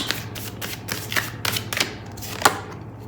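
Tarot cards being shuffled and drawn, a run of soft papery riffles and flicks at an irregular pace with a small tap near the end, close and fairly quiet over a low steady hum.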